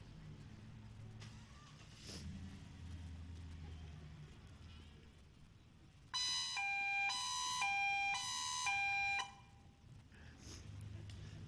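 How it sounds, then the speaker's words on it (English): A new community emergency warning siren in the Ojai Valley sounds a loud, steady electronic tone pattern for about three seconds, rising over outdoor background noise, with people talking before and after. "have the siren sound so you can tell what our new siren that warns members of the community about the disaster sounds like"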